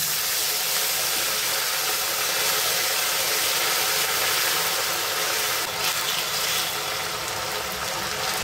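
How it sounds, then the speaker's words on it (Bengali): Ginger and green chili paste fries in a pan while cooking chal potol, giving a steady, loud, unbroken sizzle and hiss throughout. "আদা কাঁচা লঙ্কার পেস্টের কাঁচা গন্ধটা যাওয়া অবধি ভেজে নেব"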